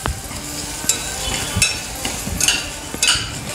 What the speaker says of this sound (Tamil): இதையும் சேர்த்து நல்லா கிளறி விட்டுடலாம்.